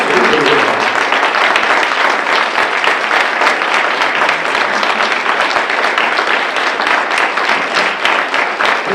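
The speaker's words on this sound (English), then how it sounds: "the planning committee and the Carter Center staff need a big round of applause" Loud, sustained applause from a symposium audience for the planning committee and Carter Center staff, thick continuous clapping close by from start to finish.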